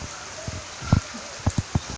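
Rain falls during the Rath Yatra festival days in Odisha. Heavy drops strike a surface nearby in irregular dull thuds over a soft background hiss of rainfall.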